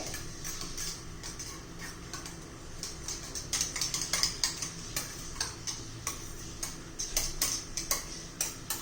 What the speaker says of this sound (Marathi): आता चांगलं फेटून घ्यायचंय